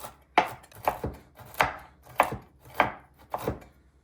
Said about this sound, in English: putting the palm of my hand on the back of the knife and just going along this and just kind of cut them into some pieces like this